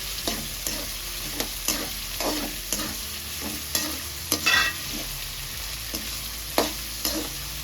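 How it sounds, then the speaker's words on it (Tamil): Steady sizzling of onions and tomato frying in a pan for crab gravy, with regular scraping and stirring strokes throughout and a brief louder crackle midway. "வெங்காயம் ஓரளவு வதங்கிடுச்சு. நான் இப்ப தக்காளியை சேர்த்துக்கிறேன்."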